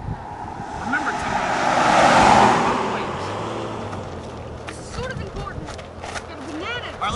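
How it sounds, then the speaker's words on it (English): A car passes on the road, its broad whoosh swelling to a peak and fading away, with wind buffeting the microphone and people talking over it. "There's a car coming."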